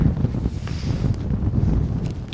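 Wind blows steadily against a Hilleberg Soulo tent in a lull between heavy gusts, a continuous low rushing roar with mic buffeting throughout and no talk.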